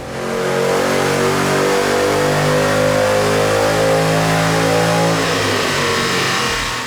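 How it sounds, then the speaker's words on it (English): A 2007 Mustang GT with a 3-valve V8 engine and automatic transmission revs hard on a dyno, one long loud pull climbing steadily through the gears, alone without talk. "we're gonna get her car moved over to the dyno and see if this 3-valve's putting out any more power."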